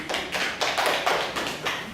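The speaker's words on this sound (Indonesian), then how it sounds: "Beri tepuk tangan buat mereka" A class of students gives a round of applause for classmates who answered: a short burst of rhythmic group clapping, moderately loud and evenly paced, with no voices on top.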